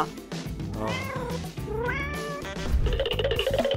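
A pet cat meows repeatedly in a close, loud series of rising, drawn-out cries, followed by a harsher, strained yowl toward the end, with no talking.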